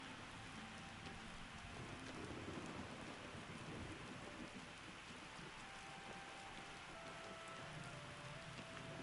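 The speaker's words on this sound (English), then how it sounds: "The rain's come back again." Steady, soft rainfall in the video game Oblivion hisses continuously with no break, with low rumbling underneath and no voices.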